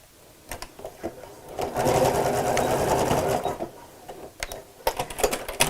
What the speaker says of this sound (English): place it face down over my mark and then sew across the top